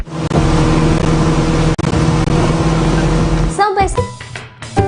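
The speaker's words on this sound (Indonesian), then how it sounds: "Deru suara mesin speedboat terdengar cukup kencang." A speedboat engine roars loudly and continuously for several seconds, then drops away as scattered, fainter sounds and possible voices take over.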